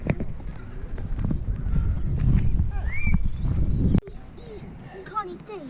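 Horses and donkeys on a farm at feeding time give honking brays and snorts over hoof clatter and shuffling, with people talking nearby.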